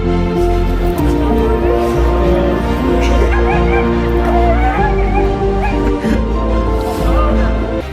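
A dog greets a soldier coming home from duty with loud, excited yips, whimpers and short barks that continue throughout over steady background music.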